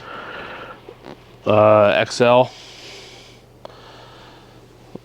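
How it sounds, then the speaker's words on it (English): A man clears his throat in one short, loud harsh burst with a brief second rasp, close to the microphone, between stretches of quieter talk. "Oh, clear my throat here."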